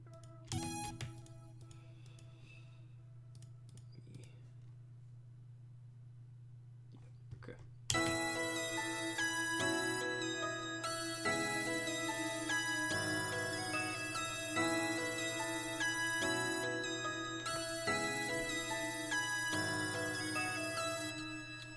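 After a sparse, quiet opening with speech and a low drone, a sustained synth pad swells in, layered with chords and a steady pulsing beat.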